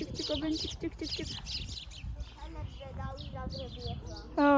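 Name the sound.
birds chirping in spring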